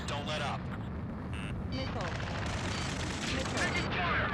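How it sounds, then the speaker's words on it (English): Gunfire in the combat game Ace Combat 7, with repeated bursts and rattling shots running continuously through dense battle noise, while voices call out over the shooting. "Taking fire! We're pinned down! Shoot back!"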